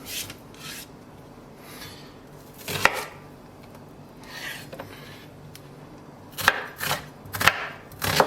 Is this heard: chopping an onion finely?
yes